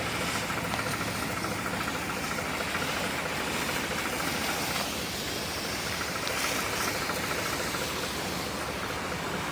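A tractor engine idles steadily and rumbles continuously with broadband mechanical noise and vibration, loud and close, no voices.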